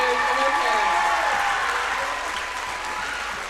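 A high school gym crowd applauds senior basketball players and their parents at Kewanee High School, a sustained wash of clapping that fades slightly toward the end, with faint voices mixed in.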